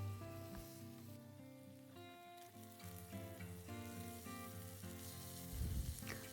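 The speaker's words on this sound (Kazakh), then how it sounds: "осылай тауықты қызартып қуырып алсақ" Chicken pieces seasoned with paprika browning in a pan, a faint continuous sizzle sitting under steady background music, with a brief louder rumble near the end.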